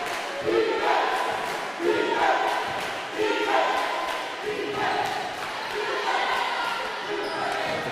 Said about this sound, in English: Cave Hill crowd is singing defense